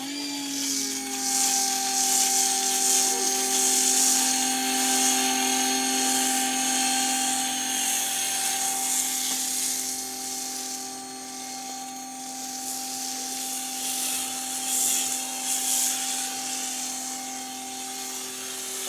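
An EGO 2100 pressure washer rinses soap off, giving a steady, loud motor whine with a spray hiss that runs unbroken, dipping slightly midway, and no talk.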